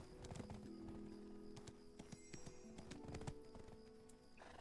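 Rhythmic horse hooves clip-clopping steadily in the video game Black Desert Online, over a game ambience with a low hum, with a brief whinny mixed in.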